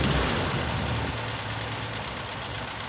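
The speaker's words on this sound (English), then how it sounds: "if you listen to the idle, you can hear that it is really struggling and kind of spluttering, and it almost cuts out" A car engine with poor ignition idles roughly nearby. The note is uneven and spluttering, with a knocking, faltering rhythm, and plays alone without talk.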